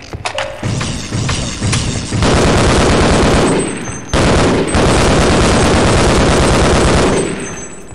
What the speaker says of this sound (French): Excellent aussi le bruit de la MP5